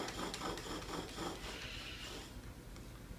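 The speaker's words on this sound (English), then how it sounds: "it's going to take a few strokes to get the spindle mated up to the rough hole that we made" A willow bow drill set, spindle stroked back and forth in a rough hole in the willow hearth board, giving a rhythmic scraping rasp that is loud at first, then eases into softer, fainter friction.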